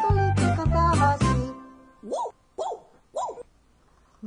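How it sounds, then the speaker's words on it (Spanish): A cartoon dog barks three times in a children's song about a rooster, the yips following a bright sung melody over a steady beat, each bark short and clear. "No, Bartolito, eso es un perro."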